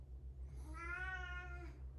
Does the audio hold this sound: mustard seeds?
no